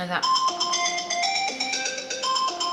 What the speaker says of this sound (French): C'était mon alarme pour le manteau à mon chum